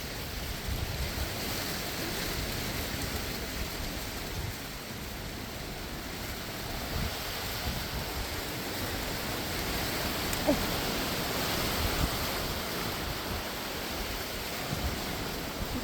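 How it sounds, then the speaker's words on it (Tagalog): Wind rushes steadily across a botanical garden park in Bermuda beside King Edward Hospital, a continuous broadband roar with mild buffeting on the microphone and no voices. "Medyo mahangin ngayon"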